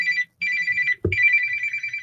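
Telephone bell ringing in loud, close bursts of bright metallic trilling, separated by brief pauses, with a dull knock between two of the rings.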